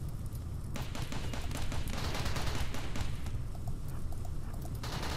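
Sustained bursts of gunfire from the video game RimWorld, rapid overlapping shots forming a dense, loud, continuous barrage for several seconds, with no talking.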